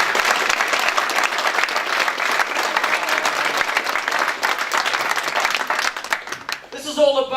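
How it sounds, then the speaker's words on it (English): An expo audience gives a brave volunteer standing on a chair another round of applause, loud continuous clapping filling the room before it thins and a voice begins speaking at the end. "Give him another round of applause."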